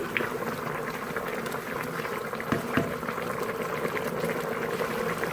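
Beef trotter gravy bubbling steadily on a high flame as its water boils off, a continuous close simmering burble with a couple of brief louder pops.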